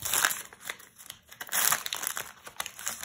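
Foil wrapper of a Pokémon card booster pack being torn open and crinkled by hand, close and crisp, in irregular rustling bursts with brief pauses.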